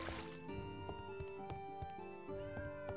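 A cat in the video game Traveller's Rest meows softly and briefly amid quiet game music and light clicking interface sounds.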